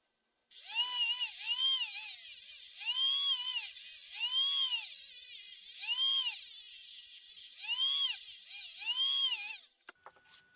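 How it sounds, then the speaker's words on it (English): A Dremel rotary tool cuts down the height of a plastic EyeClops microscope housing, its high whine rising and falling in repeated loaded arcs for about nine seconds, close and loud with no talk. "Now I'm going to shorten the height on this using the Dremel."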